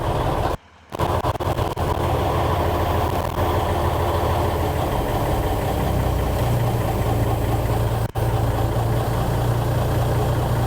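Engine of a 5-ton military truck with a fuel issue idles at low throttle around 500 RPM, a loud steady rumbling drone close up with a brief dropout near the start.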